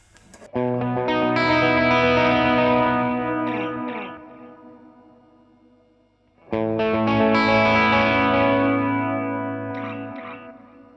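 Electric guitar run through an HX Stomp in an amp's effects loop, two sustained distorted chords each ringing out into a lush reverb tail, loud and alone with no talking.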